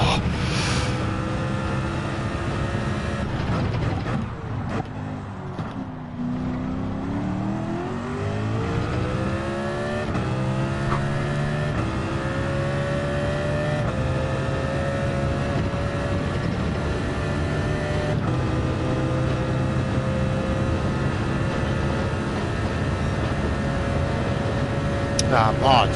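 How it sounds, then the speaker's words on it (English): Race car engine in a racing game at Monza at night, revving and shifting with rising and falling whine through gear changes, sustained and prominent while people talk over it. "Sexy engine sound."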